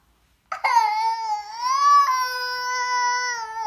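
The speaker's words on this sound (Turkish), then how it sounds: "Sen niye bugün babana çok ağlıyorsun ya?" A young child cries loudly and close by, starting with a sudden wail after a brief silence and holding one long, sustained sobbing cry.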